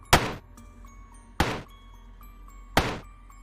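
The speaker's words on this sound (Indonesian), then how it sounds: "Seperti seseorang mengetuk dari dalam bawah kasur." Three soft, dull knocks spaced evenly apart, each a brief thud with a faint ringing tail, against quiet background, coming from under a bed.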